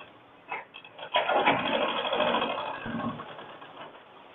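Sewing machine stitching a gents shirt, a short burst of mechanical whirring and clatter that runs for a few seconds and then fades, close by with no talking.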